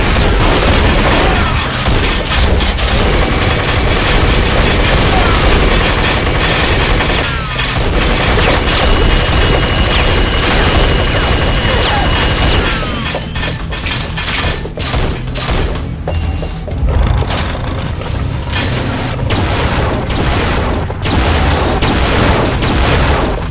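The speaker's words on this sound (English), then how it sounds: "You're shooting at the floor, mister." Unreal multiplayer deathmatch action booms with constant rapid weapon fire and explosions, loud and dense for the whole stretch, briefly thinning in the middle before the barrage resumes, with no talking.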